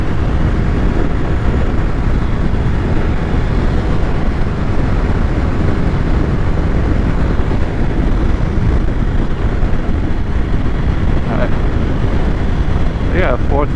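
Honda VFR1200F sport-touring motorcycle cruising in fourth gear on the road, with steady loud wind roar buffeting the microphone and a low engine drone throughout, wearing added side cases.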